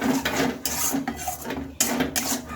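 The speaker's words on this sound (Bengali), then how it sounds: "এবার ভালোভাবে আমি নেড়ে চেড়ে নেব" A spoon scrapes and rubs in a pan while spices and chopped tomato are stirred, giving rhythmic rasping strokes with brief metallic clatters, close and moderately loud.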